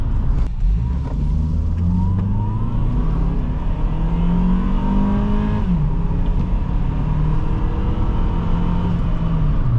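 A 2005 Honda CR-V EX engine pulls up to speed on a freeway, its rising tone climbing steadily through the gears with a brief shift dip, loud and continuous over road and wind noise, heard from inside the cabin with no talk.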